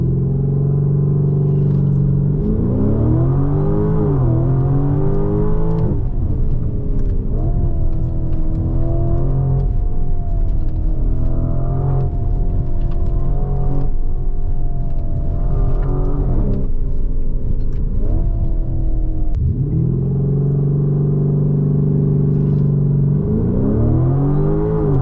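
A 2025 Lamborghini Urus SE in Corsa mode accelerates hard, its engine revving loudly through rising pitch sweeps broken by sharp gear shifts, close and continuous with no talk over it.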